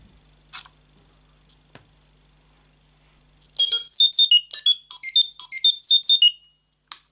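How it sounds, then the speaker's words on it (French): A bright electronic jingle of quick rising and falling tones plays for about three seconds as a robot powers on, preceded by a couple of faint clicks, then stops. "c'est un son technique qui est envoyé à la mise sous tension pour indiquer que tout va bien"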